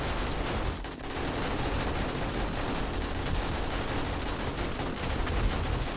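An automated turret in 7 Days to Die with the Darkness Falls mod fires in a rapid, unbroken stream. The dense, steady gunfire runs throughout, with no talking.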